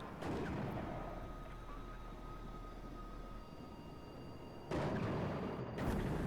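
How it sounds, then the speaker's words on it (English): Mortar shells fire and land in the WARNO video game battle, a heavy low rumble of distant explosions that swells and surges, with a sharper blast near the end. No talking. "it is just standard mortar shells to harass the infantry"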